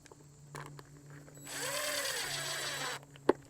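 Power drill boring a second anchor hole, a steady whine for about a second and a half that rises in pitch as it winds up, with a sharp knock near the end.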